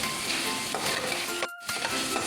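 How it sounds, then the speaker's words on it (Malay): Steady sizzling with scraping and stirring as minced chicken stir-fries in a wok, continuous and close, broken by a brief pause before the frying resumes. "Kita gaul-gaulkan ayam itu sehingga ia masak"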